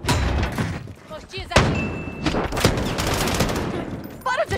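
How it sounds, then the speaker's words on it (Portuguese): Call of Duty Cold War Warzone gunfire: repeated loud gunshot bursts and heavy thuds in a busy firefight, with voices talking over the shooting. "Para de atirar em mim!"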